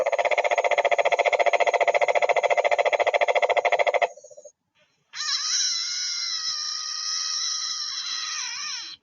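Two different frogs call in turn: first a steady, rapid pulsing trill for about four seconds, then after a brief pause a higher, wavering, buzzy call that holds on for several seconds.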